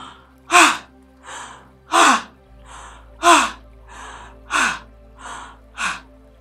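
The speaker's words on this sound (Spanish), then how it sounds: "Respiramos y exhalamos con fuerza." Forceful release breaths pushed out through the mouth, about nine rhythmic exhalations, close and loud, alternating strong and softer in a steady cycle, with no talk.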